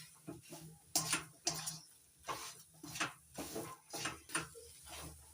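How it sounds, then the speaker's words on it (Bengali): A spoon stirs cardamom powder through grated coconut in a pan, giving faint, quick scraping strokes in an uneven rhythm with soft clinks and no voices. "এলাচের গুঁড়ো নাড়াচাড়া করে নারকেল কোড়ার সঙ্গে ভালো করে মিশিয়ে নিচ্ছি"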